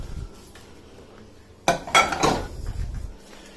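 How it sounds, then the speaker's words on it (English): Sterilised compost is tipped from a microwave dish into a container, giving a sudden scraping clatter and a rustling slide of soil after a quiet start, close and brief. "All you do is tip it into your container where all your compost has been sterilised."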